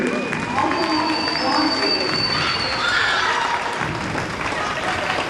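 Basketball fans in the gym stands clap steadily as the starting lineup is introduced, a dense, loud wash of applause and crowd noise running throughout under an announcer's voice.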